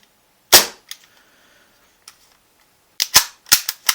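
A KSC SIG Sauer P232 airsoft pistol fires sharp, close gas-blowback shots: one crack, a couple of faint clicks, then a quick burst of several shots.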